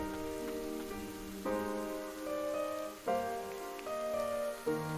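Steady patter of rain in the dark fantasy video game Ender Lilies, a soft hiss under a melancholy melody of piano-like notes and sustained tones that shift every second or so; no voices.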